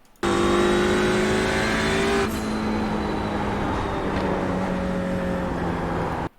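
A TCR race car at Sonoma screams at full throttle close to the microphone, its loud engine note climbing, then dropping sharply as the throttle lifts, and the car rolls on with a lower, steady drone until it cuts off.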